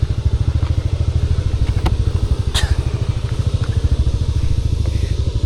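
A motorcycle engine idles nearby with a loud, fast, even pulsing throb, broken by a few sharp clicks and clatters.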